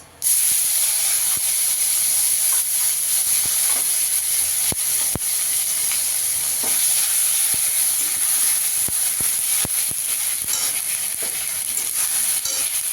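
Ginger and green chili paste frying in a hot pan, making a loud, continuous hiss and sizzle up close, with scattered clicks of a utensil and no voices.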